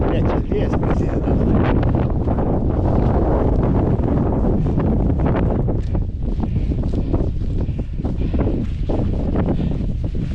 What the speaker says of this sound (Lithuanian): Čia vėjas prasideda.